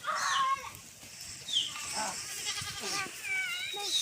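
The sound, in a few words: goats bleating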